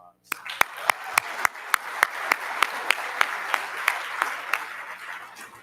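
At an annual meeting and safety awards presentation, applause for Delta Fire: one close, sharp hand clapping in a steady rhythm above a softer spread of audience clapping, with a voice briefly heard at the start.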